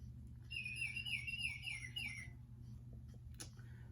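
A Baltimore oriole sings a short series of clear, fluting whistled notes outdoors, a single phrase of about two seconds at moderate distance over a low steady background hum, followed by quiet.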